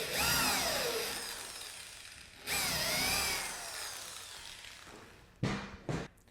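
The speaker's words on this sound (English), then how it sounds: "we need to just pre-drill 2 holes through the wood block" A power drill with a 1/4 inch bit bores through a wood block in two whining bursts, followed by a couple of sharp knocks, heard close in a quiet room.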